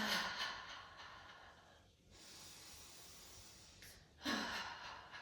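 Slow, deep breaths drawn in and let out during a standing aerobic flow exercise, with soft hissing inhales and exhales rising and falling at a steady pace, close and fairly quiet, no voices.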